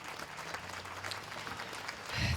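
Graduation audience applause at a Merritt College commencement, heard as a faint, distant wash of clapping that holds steady and swells slightly at the end.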